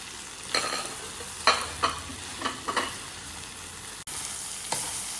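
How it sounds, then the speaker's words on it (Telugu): Prawns and ridge gourd pieces frying in a pan, a soft steady sizzle under a handful of scraping stirs from a utensil, each a short distinct scrape at uneven intervals. "ఈ బీరకాయ ముక్కలు ఇందులో వేసుకొని కలుపుకుంటాం."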